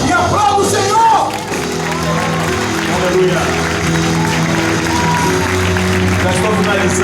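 Church congregation applauding and cheering during a Sunday celebration service, a dense sustained wash of clapping and shouts with a voice calling out over it and musical tones underneath.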